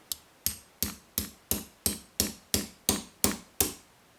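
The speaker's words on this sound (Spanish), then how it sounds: "Va a ser quitar este pasador, para lo cual me he traído el martillo y espero que funcione" Eleven sharp metallic hammer strikes knock a pin out of a lock, landing in a steady rhythm about a third of a second apart, close and loud with no talking.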